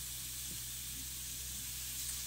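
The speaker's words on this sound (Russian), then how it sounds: "И мяско пусть жарится в собственном соку." Meat frying in its own juices over a low flame in a pan with no oil, a faint, steady hiss and sizzle that stays even throughout with no talking.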